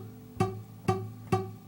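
Three dull, muted thumps from an acoustic guitar chord strummed with a string not pressed down hard enough, each short and evenly spaced, played alone and fairly quiet.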